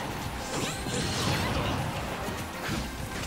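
Super Smash Bros. doubles match at a tournament, with dense, overlapping in-game attack hits, forward smashes and jabs, whooshes and crashes loud and continuous under a busy wash of sound.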